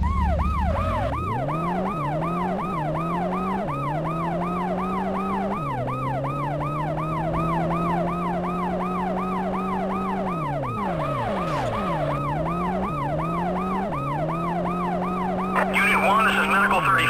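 An ambulance siren wails loudly and close in the World's Scariest Police Chases video game, its rapid warbling pulses cycling continuously, with a deeper engine drone beneath and a brief radio-like voice near the end.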